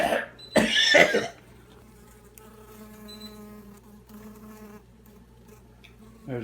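Honey bees buzz in a steady, close hum during a hive rescue, following a brief loud rough burst at the start.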